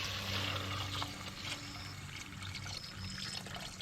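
Water is poured in a short, steady stream, splashing and trickling into a cooking pot of sautéed mung beans close by, with a low background hum.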